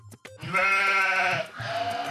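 A goat gives a single long, wavering bleat up close, preceded by a couple of short clicks and followed by a softer breathy tail.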